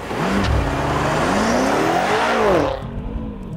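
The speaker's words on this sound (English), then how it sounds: "I cannot believe how quickly a rear-wheel drive car can get out of the hole." A 2013 BMW M5 engine roars and revs hard as it launches, pitch climbing steadily through a hard acceleration before the sound drops away abruptly near the end.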